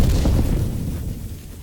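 A loud, rumbling fiery burst, a layered Skyrim destruction magic fire spell sound effect, with crackling texture that slowly dies down, heavy low end fading over under two seconds.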